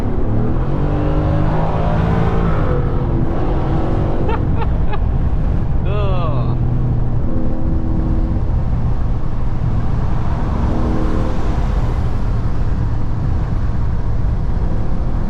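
A modified Ford F-150 tow truck engine rumbles loud and close from inside the cab, steady and throaty throughout, while someone talks over it.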